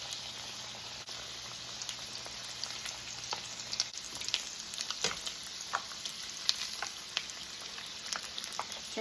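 Shrimp egg rolls fry in hot oil with a dense, continuous sizzle and crackle, sharp pops scattered over the top, and a soft clunk as they are flipped partway through, heard close and without talk.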